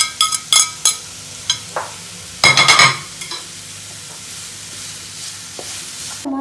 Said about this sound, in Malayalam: ഇനി നമുക്ക് ക്യാപ്സിക്കം ചേർത്ത് കൊടുക്കാം